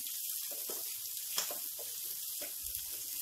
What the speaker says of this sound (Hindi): तो हम बराबर इसे स्टर करते रहेंगे और मीडियम फ्लेम पे हम इसे फ्राई करेंगे